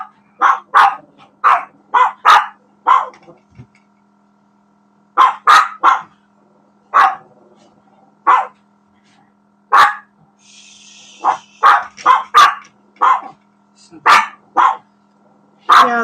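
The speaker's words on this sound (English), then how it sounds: "The dog downstairs has been barking all night." A dog barks downstairs in repeated short bursts and clusters, fairly close and loud, with brief pauses between volleys and a steady low hum underneath.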